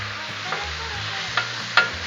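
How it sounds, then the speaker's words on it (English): Steak sizzling on a Blackstone flat-top griddle as a spatula stirs it, a steady close sizzle with a few sharp scraping clacks of metal on the hot surface. "let's give our steak a stir here"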